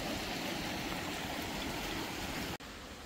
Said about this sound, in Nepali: यो खोलो बगेर हाम्रो खर्मङ ओल्टेर हाँडी खोला निस्किने खोला यही नै हो